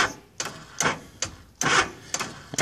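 Warm Honda GL1100 motorcycle failing to turn over, giving a run of clicking, clunking starter attempts in a steady uneven rhythm, about six bursts close by with quiet gaps between them, no talking.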